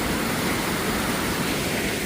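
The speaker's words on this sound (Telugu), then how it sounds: "పైన మౌంటైన్స్ కరిగి వాటర్ ఇట్లా వస్తున్నాయి" Meltwater from snowy mountains pours down waterfalls beside the road to Mount Katao, making a steady, dense rushing roar that stays loud and unbroken throughout.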